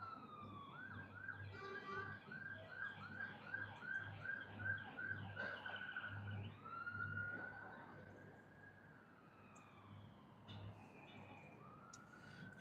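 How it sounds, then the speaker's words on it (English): Emergency vehicle sirens wail in Edinburgh with smoke rising from a building nearby, a distant, faint urban siren warbling rapidly and then sweeping in long rising and falling tones over low city rumble. "You can hear sirens"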